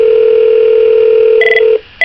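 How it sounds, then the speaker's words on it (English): An Avaya IP Office 1416 desk phone gives a loud, steady intercom ring tone up close, which changes pitch briefly near the end and then cuts off. "So this is what an incoming ring would look like and sound like."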